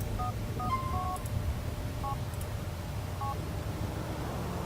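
Mobile phone keypad tones in the video game GTA IV, a handful of short electronic beeps in an uneven sequence over a low steady background hum, clear and close with no voices.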